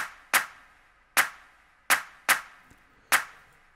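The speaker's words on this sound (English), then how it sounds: "And then the next pattern are my claps," Programmed clap samples in an FL Studio afro house beat: five sharp, bright claps in an uneven pattern, two of them close together, each with a short tail, loud and dry with no voices.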